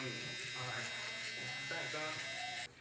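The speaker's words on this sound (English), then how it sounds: "now I'm gonna take my shaver" An electric shaver buzzes continuously during a bald fade slickback haircut, a close, steady hum that cuts off abruptly near the end.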